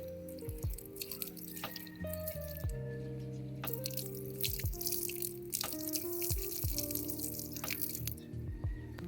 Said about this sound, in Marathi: पाणी टाकतेलं जरा सिनेमॅटिक